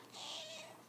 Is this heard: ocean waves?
no